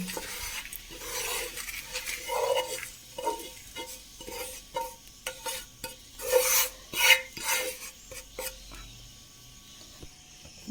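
Fried bitter gourd is scraped from a pan onto a plate. A spatula rasps and clatters against the metal in uneven bursts over a faint sizzle, close and clear, with no talking.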